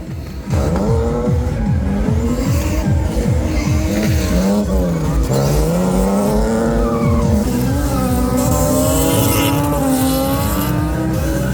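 A car at a King of the Cone motorsport event, its differential opening, so the engine wavers and sags as if dying. The engine note is loud and close, with rising and falling revs and tire squeal running throughout.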